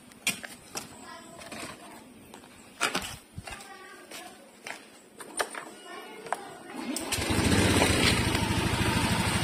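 A motorcycle engine fresh from a Castrol Power 1 oil change is heard with sharp clicks and brief bursts, then settles into a close, steady idle rumble near the end, with no speech.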